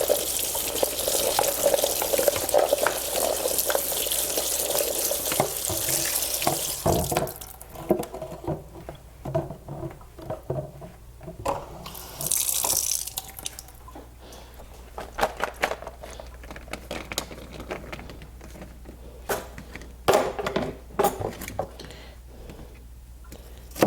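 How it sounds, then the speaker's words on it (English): Sweet peas rinsed under a running kitchen tap, water pouring steadily and loudly for the first seven seconds, then quieter splashing and clicks as the peas are moved around in a sink. "I'm gonna put these sweet peas in here. Rinse them off."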